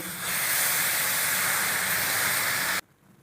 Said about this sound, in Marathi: आता भाजीला वाफ येण्यासाठी आपण थोडं पाणी शिंपडून घेऊ